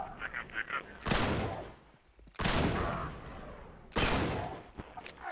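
Gunfire in the Uncharted 3 video game during a co-op firefight in Borneo: three loud, sharp shots spaced about 1.4 seconds apart, each with a decaying tail, with brief chatter and game noise between them.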